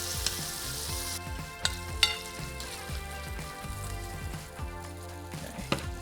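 Vegetables steam and sizzle in a hot pan, a steady close frying hiss with a few sharp clinks of utensils and no talking.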